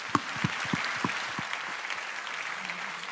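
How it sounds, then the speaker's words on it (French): Audience applause fills the hall at a charity gala evening at the Olympia in Paris: a steady, full round of clapping from a large crowd, with a few sharp claps standing out near the start. "On l'applaudit encore."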